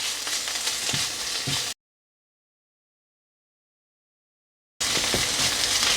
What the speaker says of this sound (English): I'm just going to add the ginger and garlic into that and just fry it for about 2 to 3 minutes